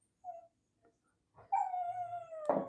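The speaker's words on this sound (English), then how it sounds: "The dog has already started" Dog howling with a long, wavering whine, after a short yelp at the start, then ending in a louder burst. It sounds fairly close and clear indoors, alone with no talking.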